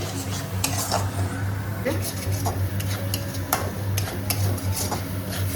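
Pots clatter and a spoon stirs while prawn masala cooks, with scattered metallic clinks and scrapes over a steady low hum of kitchen noise.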